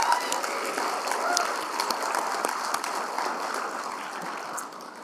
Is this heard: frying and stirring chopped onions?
no